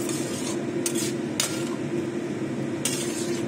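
A spoon scrapes and clinks against a pan while tomato and egg are stirred, with a few sharp metallic taps over a steady low kitchen hum.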